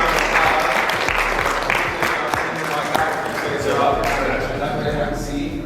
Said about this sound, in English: So give them a round of